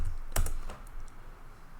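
A short burst of computer keyboard typing, a handful of quick key clicks up close, loudest at the start and trailing off into quiet room tone, with no voices.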